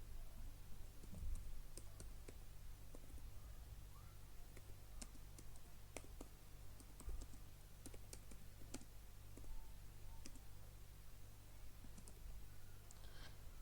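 Faint, sparse key clicks from typing code on a computer keyboard, scattered irregularly over a steady low hum and quiet room noise.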